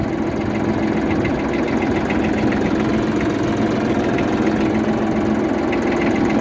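A tractor engine driving a PTO rotavator runs continuously at a steady mid pitch with a rhythmic knocking pulse, close and constant, with no voices over it.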